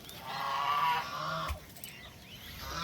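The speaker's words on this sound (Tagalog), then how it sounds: "Ito 11 na po gansa." Geese honk on a farm in a short burst of nasal calls over a steady outdoor background, then fade, leaving quieter ambient noise.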